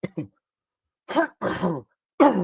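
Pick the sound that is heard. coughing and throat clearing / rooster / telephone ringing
coughing and throat clearing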